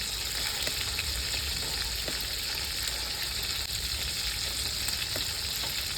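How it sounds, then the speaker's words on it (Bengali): Small fish frying in hot oil during village-style home cooking, a steady broadband sizzle and crackle that holds evenly throughout with occasional faint pops and stirring, and no talking. "বন্ধুরা মাছ ভাজা হয়ে গেছে তুলে দিচ্ছি"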